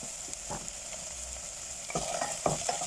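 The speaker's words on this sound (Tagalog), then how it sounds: "Igisa ang onion at saka garlic." Chopped onion and garlic sauté in hot olive oil for a lentil soup, a steady close sizzle broken by several scraping stirs of the spoon against the pan.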